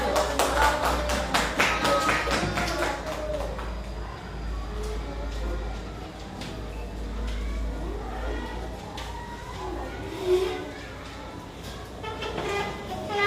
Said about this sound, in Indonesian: Oke, tepuk tangan sekali lagi untuk kelompok 1.